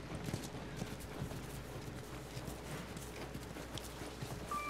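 Horse hooves clip-clop in The Last of Us Part II, a steady run of soft, moderately close hoof strikes over a low ambient bed, with no talking.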